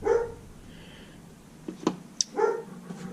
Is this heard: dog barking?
yes